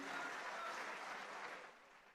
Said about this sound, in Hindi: तो तालियों की गड़गड़ाहट हम डॉक्टरों की तरफ से दुगनी होनी चाहिए